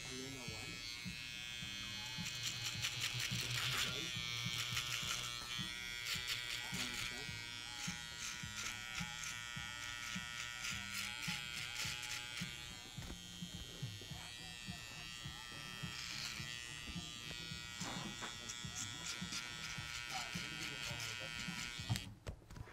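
Electric hair clipper buzzing steadily through a barbershop haircut, a continuous close hum with brief shifts in tone as it moves, while people talk over it.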